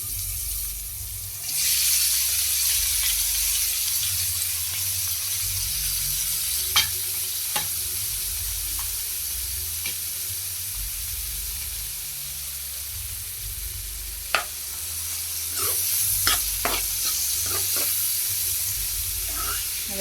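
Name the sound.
onion and garlic frying and being stirred in pan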